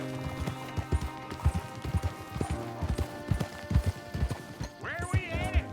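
Horse hooves gallop in the Red Dead Redemption 2 western video game, a steady, rhythmic clip-clop that stays close and clear for the whole stretch, with a brief whinny-like sound near the end.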